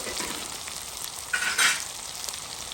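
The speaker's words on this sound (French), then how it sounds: "Les oignons en train de mailler avec saucisse." Onions and sausage sizzle together in a hot pan, a steady crackling fry with a brief louder burst of spattering midway.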